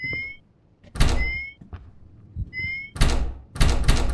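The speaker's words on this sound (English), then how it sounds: "Door is still locked. How do I open it?" Locked door rattling and thunking in the video game Suite 776, several loud bursts of rattling knocks with short pauses between them and a faint electronic tone in the background.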